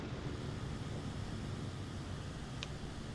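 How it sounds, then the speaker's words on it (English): Turboprop aircraft engines at night in a flight simulator game. A faint, steady, airy drone carries through the whole stretch without change, like distant engines humming under wind. "That sounds like a turbo prop."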